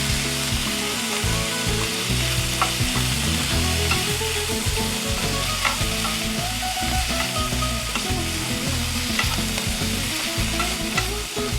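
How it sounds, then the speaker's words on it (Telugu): Telagapindi leaves frying and being stirred in a pan, with a dense continuous sizzle and frequent scraping strokes of a spatula throughout, close and steady with no talking. "కాస్త మగ్గే వరకు వేయించి"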